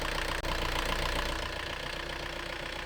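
A boat's engine idling with a sail drive, giving a steady low rhythmic chugging hum with a brief dropout near the start, close and alone.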